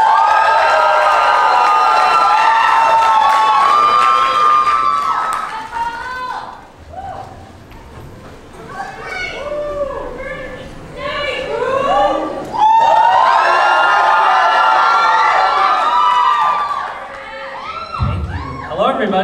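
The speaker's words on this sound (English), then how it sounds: "This time the crowd is super excited." Concert crowd cheering and shouting as an artist takes the stage at FTS 2018, in loud swelling bursts with a quieter lull between them.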